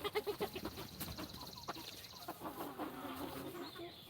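Large farm chickens, with a quick run of clucks at the start followed by scattered quieter fowl calls and rustling, close by at low level, no speech.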